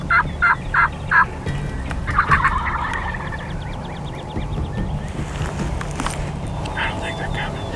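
Several loud wild turkey gobbles ring out in quick bursts near the start, followed by fainter gobbling further off over steady wind and outdoor rumble.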